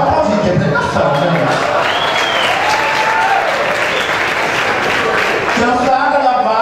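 An audience at a drag show in a nightclub claps loudly and continuously, with scattered cheers and whoops rising over the sustained applause.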